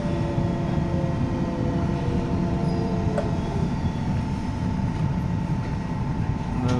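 London Underground Central line train running between Woodford and Hainault, with a steady low rumble and faint whine heard from inside the carriage, continuous and even in level, with no talk.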